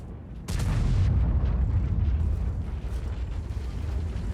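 A Jagdpanzer tank gun in World of Tanks fires with a sudden loud boom, followed by a sustained rumbling roar of battle noise; no voices.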